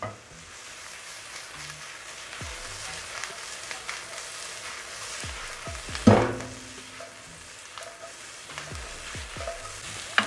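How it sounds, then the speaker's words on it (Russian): Onions frying in a pan with a steady, close sizzle and crackle, accented by occasional scraping stirs and a sharper clatter partway through, with no talk. "Еще буквально минуточку пожарим, чтобы у нас уже лук бы стал таким более-менее коричневатого оттенка."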